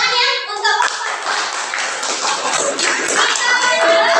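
A group of children in a classroom bursts into applause after a presentation, steady clapping from many hands, with children's voices chattering over it.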